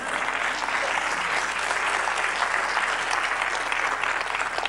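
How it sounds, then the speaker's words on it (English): Dense, continuous applause from a church congregation, a steady wash of many hands clapping at once, loud and unbroken with no pauses. "You want to clap."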